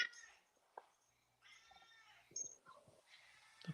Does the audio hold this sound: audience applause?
no